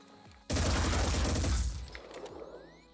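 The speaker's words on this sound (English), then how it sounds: "Get closer and shoot" A burst of rapid, overlapping gunfire erupts in the Phoenix Point video game, loud and dense for about a second before tapering into scattered shots and echoing tails.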